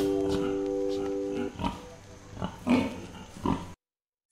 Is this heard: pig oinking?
yes